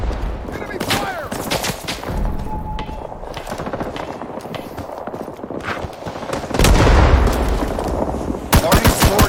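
Enemy gunfire in the Vietnam war game Rising Storm 2 Vietnam crackles in bursts of sharp rifle and machine-gun shots, some near and loud, others distant, over busy battlefield clatter and footsteps.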